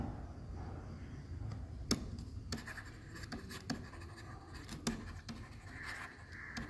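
Pen writing on paper during an accounting exam working session, giving faint, scratchy strokes with a few sharper taps, steady and close throughout without talk.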